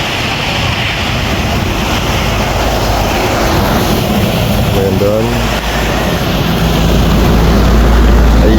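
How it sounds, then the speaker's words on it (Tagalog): A strong current of water rushes past in a loud, continuous, broadband roar that fills the whole clip, with a voice speaking briefly over it. "ang lakas ng agos ng tubig."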